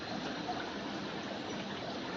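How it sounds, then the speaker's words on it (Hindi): A steady stream of water pours from a hose pipe onto coriander plants, a continuous close rushing splash with no pauses and no voices. "ये धनिया को पानी दे रहे हो"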